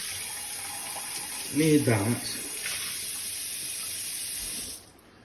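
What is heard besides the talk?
tap water rinsing a measuring cup in sink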